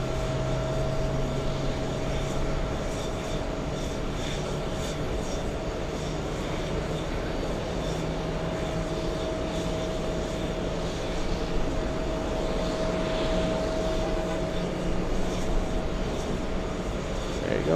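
An American Airlines jet bound for Madrid, Spain, at an airport gives a steady, distant engine roar with a low hum, broad and continuous, with faint background voices.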